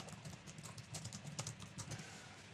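Keys clatter in a quick, uneven run of typing on a computer keyboard while a forum post is written, the taps close and moderately quiet with a faint background hum.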